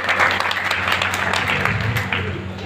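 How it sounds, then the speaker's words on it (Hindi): Hall audience at a Hindi-language speech claps together loudly and continuously, a dense wash of applause filling the space with a faint murmur of voices underneath. "जोरदार तालियां बजाकर मुझे शुभारंभ करें"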